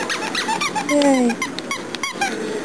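A squeaky toy squeaks several times at a furry convention, with short high squeals and a longer rising squeak, amid lively crowd chatter and voices close by.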